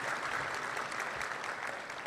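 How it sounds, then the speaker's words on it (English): Audience applause for sponsors at a business luncheon event, a steady wash of many hands clapping at moderate distance, fairly soft and continuous throughout. "Round of applause, please, for our sponsors there."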